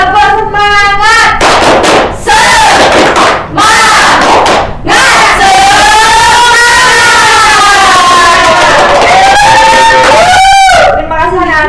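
Primary schoolchildren in a classroom perform a loud rhythmic spirit clap, sharp bursts of clapping alternating with shouted, sing-song group chanting that rises and falls in pitch, close and very loud.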